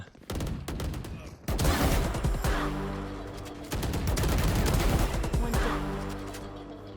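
Rapid automatic gunfire from the new ORA character skin in a video game comes in loud sustained bursts, with a short gap between volleys and a tonal musical ring layered over the shots.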